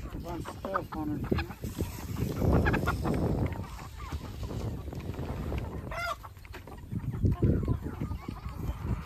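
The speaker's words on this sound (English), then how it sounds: "I think he's the prettiest rooster." Barred Rock chickens and a rooster clucking and squawking around a rainy farm yard, a busy overlapping chorus of close calls mixed with people talking.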